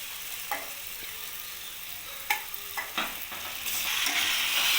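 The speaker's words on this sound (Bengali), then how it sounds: "মশলার সাথে চিকেনটা ভালো করে মিক্স করে নেব আর চিকেনটাও ভালো করে কষিয়ে নেব।" Chicken pieces fry with spices in a kadai, a soft steady sizzle broken by several scraping stirs, the hiss growing louder toward the end.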